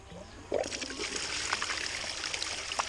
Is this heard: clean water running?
yes